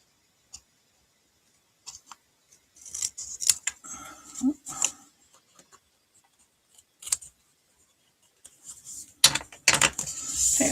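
Scissors trimming cardstock for a handmade tri-shutter card, scattered quiet snips and paper rustles close up, with a busier flurry of cutting near the end and no talking.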